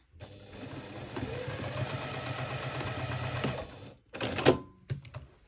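A sewing machine stitches a double wedding ring quilt in a fast, even mechanical patter that runs steadily for several seconds, stops briefly, then resumes in a couple of shorter bursts.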